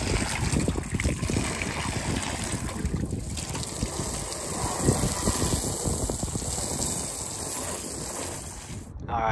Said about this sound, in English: hose it down with fresh water